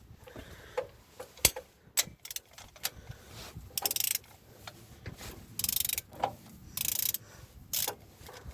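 Ratchet wrench clicking and clattering while working on a Ford F350 engine, with short metallic ticks, tool knocks and a few louder bursts of rapid clicking, close up and with no talking.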